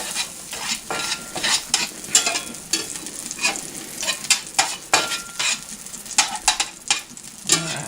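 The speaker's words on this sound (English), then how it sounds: "That butter kind of sizzles but doesn't burn." Butter sizzling and crackling steadily in a hot skillet, with occasional louder pops and the scrape of stirring, close up and without voices.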